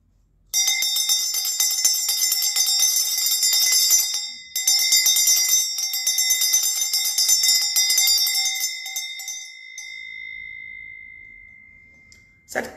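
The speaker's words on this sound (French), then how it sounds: "Cette cloche, c'est pour dire que leur temps est arrivé, qu'ils partent." A bell rings continuously and loudly up close, with a bright sustained tone that breaks briefly, resumes, then fades out and leaves a faint rustle.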